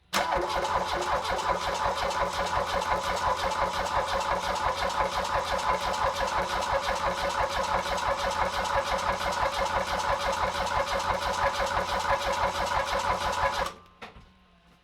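A VW 1.6L turbo diesel engine cranks with a rapid, steady mechanical chugging for several seconds at close range, then cuts off abruptly into near silence.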